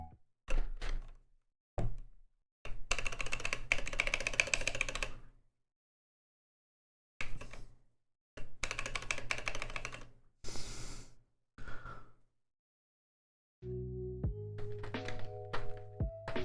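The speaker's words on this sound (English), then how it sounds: "That spacebar sounds horrible." A keyboard spacebar with a harsh-sounding switch, pressed in bursts of rapid clacky presses separated by pauses, with a few lone knocks and a brief higher tonal clatter near the end.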